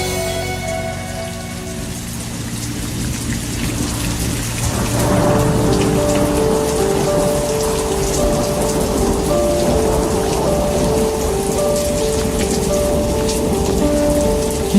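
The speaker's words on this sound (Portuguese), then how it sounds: "Fortes chuvas atingiram o litoral norte de São Paulo entre a noite de sábado e a madrugada de domingo." Heavy rain pours steadily during a storm on the northern coast of São Paulo state, a dense loud hiss of drops on surfaces with a faint rumble of thunder underneath, intensifying after the first few seconds.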